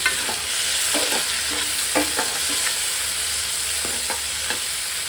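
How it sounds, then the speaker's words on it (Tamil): Tomatoes for Bombay chutney sautéing in a pan, a steady sizzle with repeated scraping stirs at an irregular rhythm, close and fairly loud, with no talking. "இந்த தக்காளி நல்லா வதங்கணும்."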